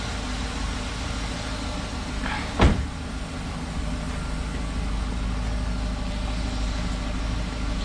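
Rebuilt Chevrolet Corvette C6 engine idling steadily, a low continuous rumble held at an even level throughout, with one brief sharp knock partway through.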